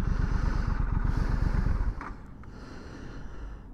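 A 2023 Triumph Scrambler 1200XE motorcycle idles nearby with a rapid, throbbing engine pulse that suddenly drops to a quieter, smoother running note partway through, with no talking.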